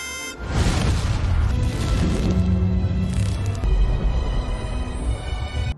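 A car packed with explosives detonates in an action film, a loud, sustained blast of rumbling roar and crashing debris that fills the whole stretch with no talk.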